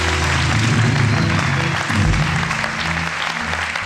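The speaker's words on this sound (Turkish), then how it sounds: "kuvvetli bir alkış Gökçe'ye" A television game show studio audience applauds a contestant with strong, sustained clapping, a dense close wash of sound with low musical tones underneath.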